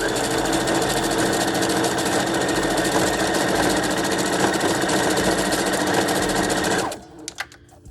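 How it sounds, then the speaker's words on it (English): A sewing machine runs a long zigzag stitch back and forth across a wig closure, a loud and steady close mechanical chatter that continues for about seven seconds before it stops abruptly. "It's a long zigzag. I'm gonna go back and forth a couple times."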